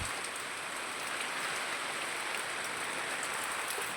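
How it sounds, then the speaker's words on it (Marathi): Heavy rain pours down in a village, a constant broadband hiss of drops on surfaces, steady and fairly near, with nobody speaking. "पावसाचा कहर एकदम चालू आहे."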